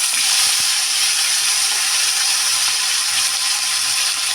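Whole cumin seeds fry in hot oil in a pan for an aloo-olkopi fish curry, giving a steady, bright sizzle that holds evenly throughout with one faint tap near the start and no voices.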